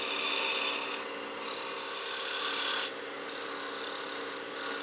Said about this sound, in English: Go back and do some planing cuts to get this cove shape.